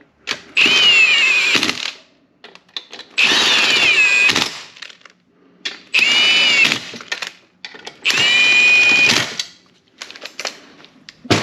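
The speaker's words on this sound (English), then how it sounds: "Try to save time running them in with the impact, just not getting too carried away with it." Impact wrench running bolts into a transmission during a 02S six-speed to 02J swap: four loud, close, buzzing bursts about a second each, with short quiet gaps between them.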